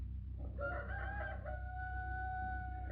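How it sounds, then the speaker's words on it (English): Rooster crowing as a radio drama sound effect, a single drawn-out cock-a-doodle-doo rising then holding its long final note, faint and somewhat distant over a low background hum. "I thought I heard the cock crow."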